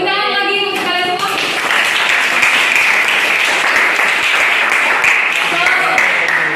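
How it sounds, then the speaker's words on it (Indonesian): Students in a classroom give a round of applause, a loud and dense burst of clapping that lasts several seconds. A voice can be heard over the start and end of it. "Tepuk tangan lagi untuk kalian semua."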